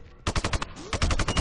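Automatic gunfire in the shooter game Sniper: Ghost Warrior 2, a loud rapid string of shots in two close bursts with a brief gap between them.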